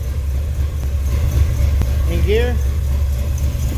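A car engine idles with a low steady rumble while a person speaks over it and the vehicle is shifted into gear, with a short tonal whine partway through.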